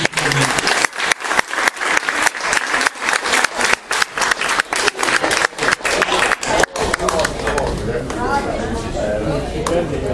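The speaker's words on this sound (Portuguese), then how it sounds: "deem uma salva de palmas para vocês" A crowd claps in loud, rhythmic unison, then the beat dissolves into looser, scattered applause with cheering voices underneath, at a São João festival held for patients of a Brazilian mental health centre.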